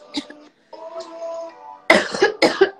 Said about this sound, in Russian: У меня кашель какой-то ужасный.